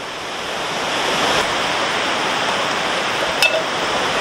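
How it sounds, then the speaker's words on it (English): Strong wind roars steadily at a wild camp in the UK under a poncho shelter in bad weather, a broad rushing gust buffeting the microphone throughout. "That wind is really picking up."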